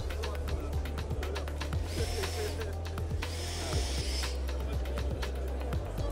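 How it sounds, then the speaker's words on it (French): Power screwdriver driving screws into pine decking profiles at a trade show demonstration, heard as short repeated whirring bursts over steady loud crowd and hall noise, with voices in the background. "On les aligne parfaitement aux autres profils. Et on vient les visser."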